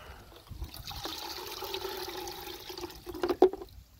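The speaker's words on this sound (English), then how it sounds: "dump our seaweed into the strainer. Okay. And then place it into the bucket. Give it a good rinse." Seaweed rinsed with water in a strainer over a bucket makes a running, swishing wash, building to louder splashes and gurgles near the end.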